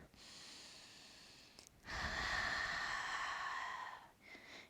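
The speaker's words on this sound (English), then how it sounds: "Breathe deep." Deep breathing during a slow yoga flow: a long exhale, then a fuller, louder breath through the nose, close and alone without speech.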